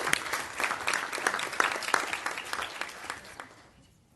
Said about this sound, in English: Let's give one more round of applause to our students and our staff